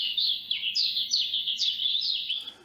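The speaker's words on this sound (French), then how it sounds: "on a ce chant d'oiseau qui est plutôt bien défini" AI-generated birdsong from Stable Audio played back through speakers: a bright, clear run of repeated chirping and rising-falling whistled notes, fairly loud and continuous, with a faint low hum of room noise beneath and no talk.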